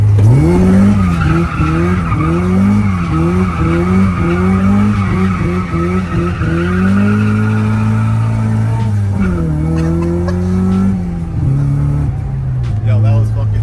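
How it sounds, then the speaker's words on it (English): A Mazda Miata with a welded differential skids in snow, its engine revving up and down in rhythmic surges and its tires squealing. The car is loud and near, and a voice speaks over the engine. "Quick little skid for y'all."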